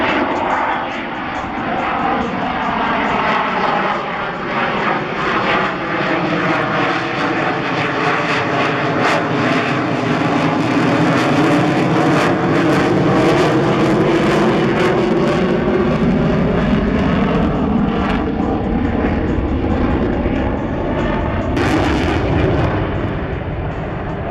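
A propeller airplane flies at the Columbus air show, its loud engine drone sweeping steadily across the whole stretch with a rising and falling pitch as it passes overhead, no talk heard.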